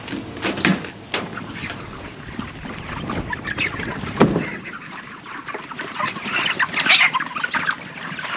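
Chickens cluck and murmur throughout a busy barn on a cold 21-degree day, with scattered louder squawks over a constant low background hum.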